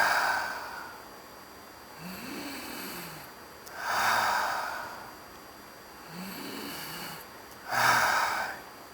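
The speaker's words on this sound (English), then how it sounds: "Breathe in, breathe out." Slow deliberate breathing exercise, two full cycles of a long airy inhale followed by a longer exhale, close and clear, with quiet pauses between.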